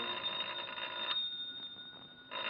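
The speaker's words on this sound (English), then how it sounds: "It's not the door, it's the phone." A telephone in a 1946 radio drama rings with a bright, buzzy electric bell in two bursts separated by a short gap, recorded with a thin, old broadcast sound and no voices.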